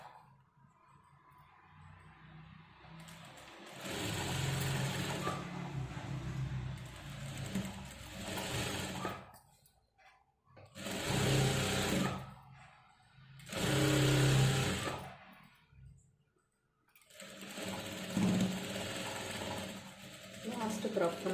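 A sewing machine stitches a blouse with a long stitch length for hemming, running in several bursts of steady mechanical whirring separated by short pauses, close and fairly loud.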